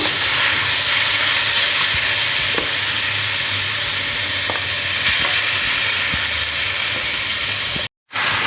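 Grated coconut sizzles steadily in a wok over a gas stove, a dense continuous hiss with faint stirring scrapes, cutting out briefly near the end.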